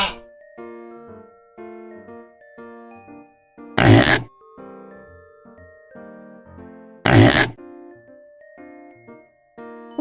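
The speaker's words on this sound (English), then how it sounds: "It's a pig." Two short, loud pig grunts break through a bouncy chiming children's tune, each a rough snorting oink standing alone between the musical notes.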